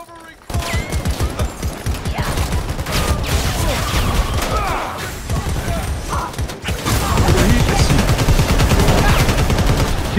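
Rapid automatic gunfire and weapon bursts in the multiplayer shooter Predator: Hunting Grounds, loud and nearly continuous through the whole stretch, with brief lulls and voices calling out over the shooting.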